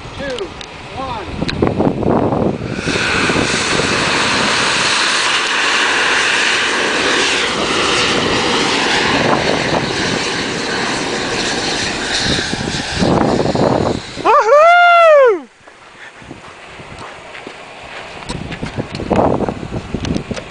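An amateur rocket motor with a 7-point star grain cast in a 4-inch mold fires with a loud, sustained roaring rush lasting many seconds, then cuts off abruptly, leaving quieter outdoor ambience behind.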